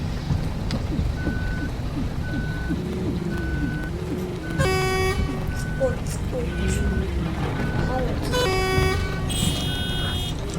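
Car horns honk in short repeated blasts over a dense bus simulator game soundscape of engines and traffic, with voices talking throughout.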